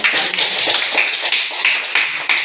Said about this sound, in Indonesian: kita kasih aplaus lagi untuk kelompok